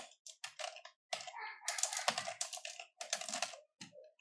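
Keys clatter on a computer keyboard in short bursts of rapid typing separated by brief pauses, close and fairly quiet, with no voice over it.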